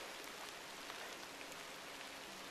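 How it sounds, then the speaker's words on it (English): Soft, steady rain falls outdoors near an abandoned turnpike tunnel, a faint even patter and hiss with scattered droplet ticks and no voices. "oh yay, the rain is back"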